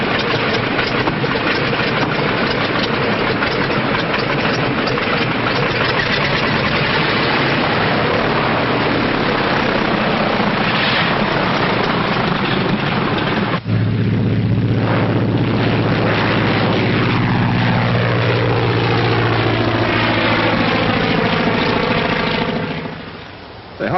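An aircraft from a 1939 film drones with a steady, heavy engine roar, then a louder, shifting rumble that sweeps past in a rising and falling swell, muffled and close, with no talking.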